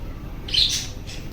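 Pet parrots let out a single bright squawk over low background hum, brief and fairly close, with a fainter chirp trailing after.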